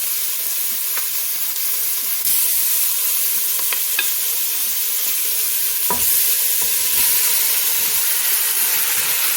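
Beef tipped into hot oil with curry spices for a Jamaican-style curry, a loud continuous sizzle and hiss throughout, with occasional stirring scrapes and crackles close up and no talk.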